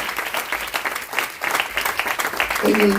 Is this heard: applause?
yes